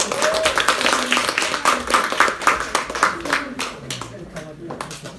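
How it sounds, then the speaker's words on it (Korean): An audience at a health and diet seminar breaks into a short burst of brisk clapping, close and lively, with voices audible among the claps before it thins out. "2부 시작합니다. 박수 한번."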